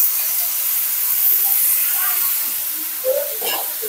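Raw chicken pieces dropped into a pan of fried spice paste set off a loud, steady hiss of steam and sizzling oil, broad and sustained, with a few faint clinks near the end.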